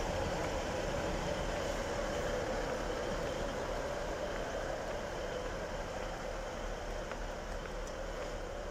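A Class 156 diesel multiple unit runs along the Midland Main Line at Attenborough, giving a steady, loud rumble and roar that holds evenly throughout with no voices over it.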